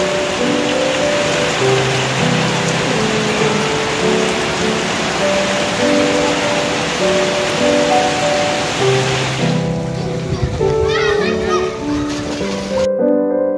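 Rain falling at a swimming pool, a steady dense hiss of drops on water and surfaces. Children's voices and music play over it, and the rain thins toward the end.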